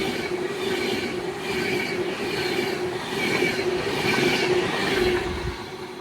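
Electric train 390006 on a London Euston to Glasgow Central service passes through Nuneaton on the West Coast Main Line, a steady loud rumble with rail clatter and faint wheel squeal for six seconds.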